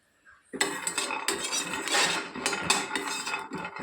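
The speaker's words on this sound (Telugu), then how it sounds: "చూసారా, వేగుతున్నాయి." Ingredients for coconut chutney frying in a pan, a dense, steady crackling sizzle that starts abruptly and continues loudly with occasional sharper pops and scraping accents, without speech.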